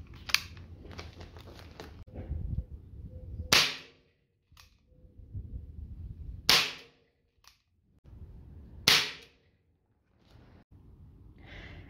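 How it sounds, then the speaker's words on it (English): A Colt Python CO2 revolver fires 6mm steel BBs into cardboard: three sharp, close pops spaced a few seconds apart, with low handling noise between shots. "first we're gonna test out the Colt Python with 6mm steel BBs."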